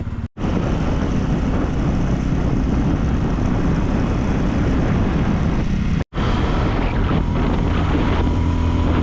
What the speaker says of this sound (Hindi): यहाँ पे हमने अपनी बाइक स्टार्ट कर दी है और निकलने की तैयारी कर रहे हैं